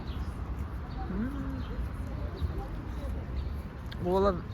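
Pigeons cooing near a riverside monument in Kostroma: a few soft rising coos over faint street ambience, with a brighter burst of calls near the end.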